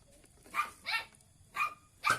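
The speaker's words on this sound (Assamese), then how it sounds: "এই কুকুৰ পোৱালিকেইটা" Puppies give four short, high yapping barks at uneven intervals, fairly close but quiet, with nothing else around them.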